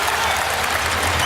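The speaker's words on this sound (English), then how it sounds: "And here comes this crowd again." Home crowd at a Santa Cruz Warriors G-League basketball game against the OKC Blue claps and cheers after made free throws, a loud, dense wash of applause throughout the short stretch with no clear talk.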